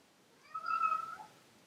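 A pet cat gives a single short, faint meow, rising and falling over about half a second, in an otherwise quiet indoor room.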